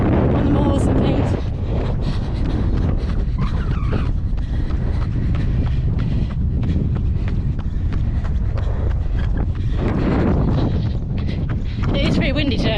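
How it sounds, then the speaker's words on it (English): Strong wind buffets the microphone during a run on open moorland, with gusty rumbling and rushing under a runner's voice and footsteps. "It's pretty windy today, I don't know if you can hear that."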